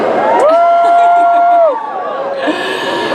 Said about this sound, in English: That was the weakest woo I've ever heard.